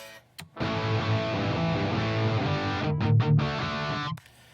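A heavily distorted electric guitar chord chugs loud and close through an amp, with a few quick muted stabs before cutting off.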